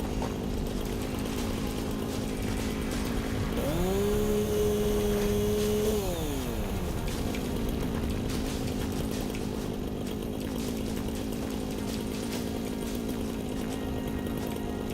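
A chainsaw in the game Satisfactory cutting down a tree: a whining motor tone rises sharply, holds steady for a couple of seconds, then sweeps back down, all beneath a constant loud bed of game ambience and music.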